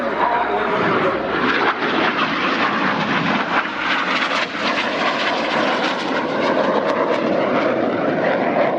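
RAF Red Arrows jets in a flying display at RIAT 2025, a loud, sustained roar of jet engines passing near overhead, with a broad rushing texture that holds steady throughout.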